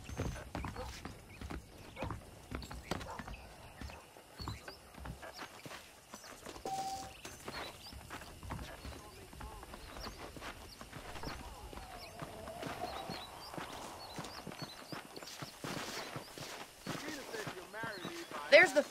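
Horses clip-clopping in Red Dead Redemption, hooves striking at a walking pace with an occasional whinny, faint and close beneath someone talking.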